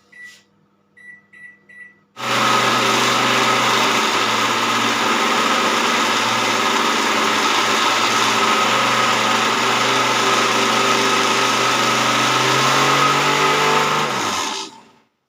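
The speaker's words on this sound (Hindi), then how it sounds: "तो तिल को मैंने बिल्कुल बारीक पीस लिया है" A kitchen mixer grinder whirs loud and steady for about twelve seconds as it grinds sesame seeds in its jar. A few short clinks come before it, and the motor winds down at the end.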